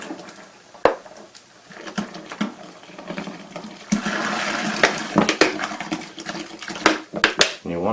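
Shaken club soda is poured onto a cotton gauze air filter, giving a fizzing, splashing pour with bursts of bubbling and patter, loud and close, with brief handling knocks between pours.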